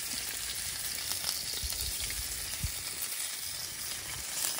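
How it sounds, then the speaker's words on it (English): Steaks sizzle and crackle steadily in a hot pan at a nighttime campsite in the woods, a constant hiss with small pops, fairly quiet and with no voices. "Sizzling away."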